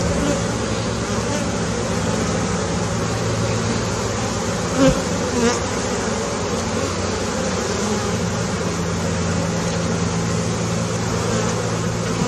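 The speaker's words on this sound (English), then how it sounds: "A lot of bees. That's a lot of bees." Dense swarm of honeybees buzzing steadily and close during a hive inspection outdoors, a constant drone with a faint low hum beneath and one brief thump midway.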